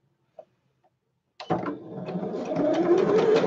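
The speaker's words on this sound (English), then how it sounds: "I'm going to attach them with a zigzag this time" Sewing machine stitching a zigzag seam on fabric, a few faint clicks first, then the motor starts and runs with a steady whirring, rapid mechanical chatter that builds slightly, close and loud.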